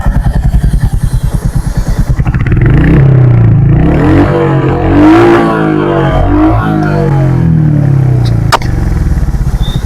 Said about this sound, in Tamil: நம்ம வண்டியோட எக்ஸாஸ்ட் சவுண்ட்ல நம்ம ஆரம்பிக்கலாம்